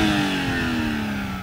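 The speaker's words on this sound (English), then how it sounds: "all I'm going to do is just rev it up like a boy racer" BMW M340i engine revved hard in a stationary blip, a rising then settling whine and roar heard fairly close and alone.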